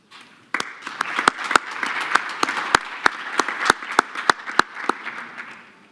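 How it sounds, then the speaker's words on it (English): An audience at a conference welcome address applauds, building into steady clapping with sharp individual claps standing out before it fades near the end. "give them a warm round of applause"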